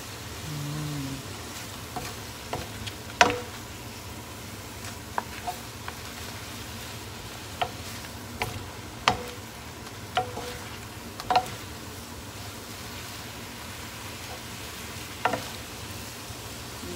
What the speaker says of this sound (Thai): จะคนทุกอย่างจะได้สุกพร้อมกันนะคะทั้งกุ้งแล้วก็วุ้นเส้น